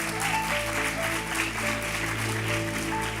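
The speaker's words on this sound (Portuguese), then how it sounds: "Vamos aplaudir Jesus." An audience claps at a church youth talk, a continuous wash of many hands under sustained music-like tones from a keyboard or pad, moderately loud and even throughout.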